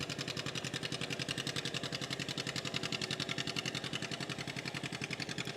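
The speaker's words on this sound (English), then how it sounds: "You hear that noise that John Deere makes?" A John Deere B tractor from about 1948 to 1952 runs steadily with a fast, even putt-putt pulse, a continuous mechanical chugging heard fairly close at a county fair.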